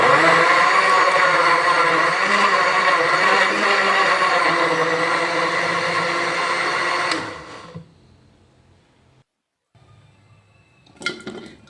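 A kitchen blender purees jackfruit with a cup of water, roaring loud and steady for about seven seconds before winding down and stopping, followed by quiet and a brief clatter at the end.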